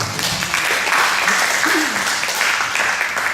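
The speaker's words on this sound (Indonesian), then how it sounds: "Kita beri tepuk tangan buat Tuhan." A church congregation applauds together in worship, a steady dense wash of clapping held at an even level throughout without pause.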